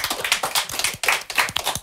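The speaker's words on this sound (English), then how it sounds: "Can I get a round of applause for that" A small group in a studio gives a short burst of clapping, a few pairs of hands striking in an uneven, close-up patter that rises and dips.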